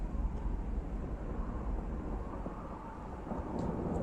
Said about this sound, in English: I think there's a storm.